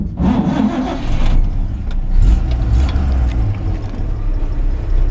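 A 1954 Chevrolet 3100 shortbed pickup, an all-original barn find, cranks and catches, its engine settling into a steady, loud low rumble that carries on alone without a break.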